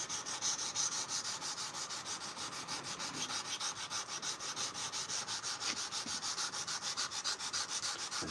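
Steady back-and-forth hand sanding of a steel knife blade with 220 grit sandpaper, a close, continuous rhythmic rasp with fast regular strokes throughout.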